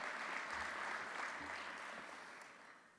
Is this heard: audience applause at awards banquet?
yes